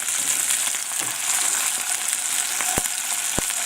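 Peppers fry and brown in a pan, giving a steady close sizzle and crackle throughout, with two sharp clinks near the end.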